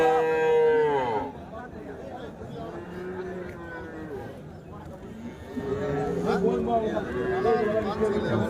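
Calves and cattle low and moo repeatedly at the Kuntharappalli cattle market, several calls overlapping near and farther off, with people talking throughout.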